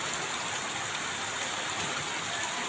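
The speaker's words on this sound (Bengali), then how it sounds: "অনেকদিন পর একটু বৃষ্টি হলো।" Steady rain falls over the city of Dhaka during a hot spell, an even, continuous hiss of drops without pauses, fairly close and moderately loud.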